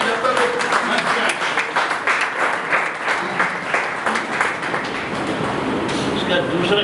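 An audience at a Hindi book launch and poetry event claps enthusiastically as a guest is invited to the stage. Loud, rhythmic applause runs for about seven seconds, with voices audible underneath.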